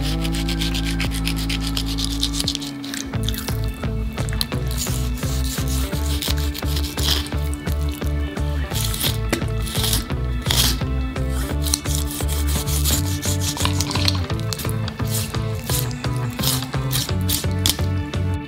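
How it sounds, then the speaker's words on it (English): A knife cutting the ribs out of a 50 kg beluga carcass, with a continuous low hum that stops early on, then rapid, close, rhythmic scraping and rasping strokes through bone and flesh, alone without talk. "Now you need to cut out the ribs."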